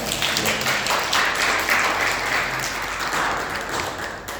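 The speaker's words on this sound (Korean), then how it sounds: "잠깐만 일어나주시면 큰 박수로 환영합니다" A church congregation at a Korean Sunday service applauds to welcome a new member, giving steady, dense, continuous applause from many hands at moderate distance, with no talking over it.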